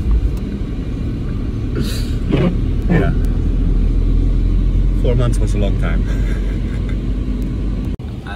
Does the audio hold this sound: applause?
no